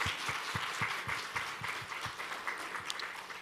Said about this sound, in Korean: 우리 다시 한 번 더 에베네스 찬양대에게 큰 박수로 인사하겠습니다.